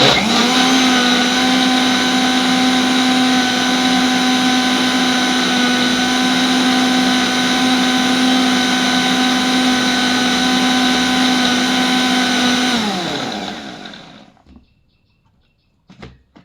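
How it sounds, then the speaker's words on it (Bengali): An electric blender runs steadily for about thirteen seconds as it purées food, loud and close with a constant high motor whine, then winds down and stops, leaving near silence with a few faint knocks. "এটাকে কিন্তু ভালোভাবে ব্লেন্ড করবে।"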